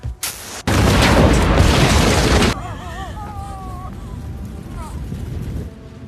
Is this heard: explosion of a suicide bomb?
yes